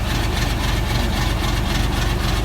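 An Isuzu Super Rocky truck engine idles with a steady, low, even rumble, continuous and close with no voices.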